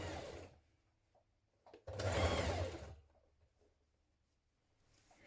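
Sewing machine stitching a frill sandwiched into a dress collar, two loud bursts of running stitches separated by a pause, with a fainter burst starting at the end.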